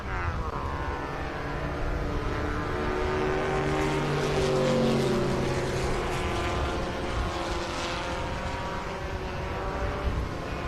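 Vintage Alfa Romeo and Triumph Spitfire race cars at Barber Motorsports Park roar past in a sustained engine drone with shifting pitch, loud and fairly close, with faint commentary underneath.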